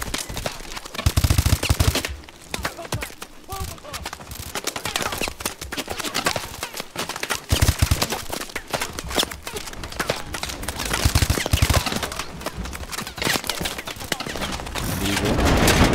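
Rapid automatic gunfire in the Call of Duty Advanced Warfare video game, dense bursts and volleys of shots running almost continuously, loud and close with a few heavier thumps mixed in.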